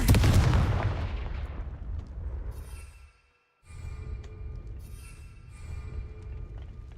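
A Confringo explosion spell in Hogwarts Legacy bursts loudly at the start and its rumble decays over a few seconds, followed by brief silence and then a low, rumbling background.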